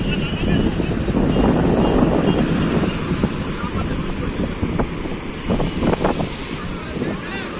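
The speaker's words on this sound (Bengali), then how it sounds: "দিগন্ত বিস্তৃত নীল সমুদ্র, ফেনীল জলরাশি" Ocean waves and wind at Puri beach: a continuous loud roar of surf and wind buffeting the microphone, with faint crackling of foam and distant voices underneath.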